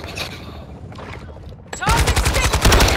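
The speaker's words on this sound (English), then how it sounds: "Right, you're shooting friendlies!" Automatic gunfire erupts in Call of Duty DMZ, a loud, dense stream of close shots that starts abruptly after a quieter stretch and carries on with a rattling rhythm, with a voice heard beneath.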